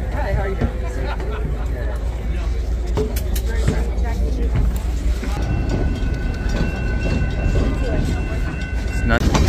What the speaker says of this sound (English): So we're now live here on the skunk train.